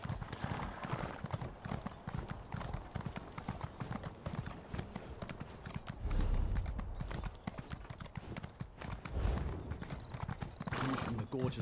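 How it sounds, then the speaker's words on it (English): A horse in the Elder Scrolls Online game trots along with a steady clip-clop of hooves, rhythmic and close, with a whinny partway through and a voice talking over the ride. "Let's get on the horse, make things a bit easier."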